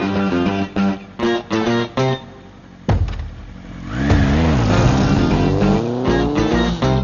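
A revving engine pulls away in a rising, accelerating roar after a run of short, choppy bursts, loud and close; the sound fits a motorcycle riding off.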